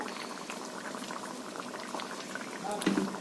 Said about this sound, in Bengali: সেদ্ধ হোক, আমি চাপা লাগিয়ে দিচ্ছি।